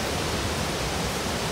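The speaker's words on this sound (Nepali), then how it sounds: "खोलाको आवाज आयो होला" A mountain river rushes along a trail on the Shey Phoksundo Lake trek in Dolpa, Nepal, a steady, dense broadband roar of flowing water without breaks.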